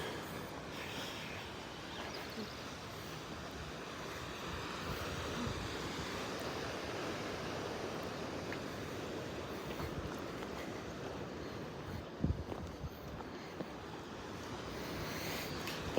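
Steady ocean surf and gusting wind along a coastal trail by the Northern California shore, a continuous broadband wash with occasional wind buffeting on the microphone and a brief clatter near the end.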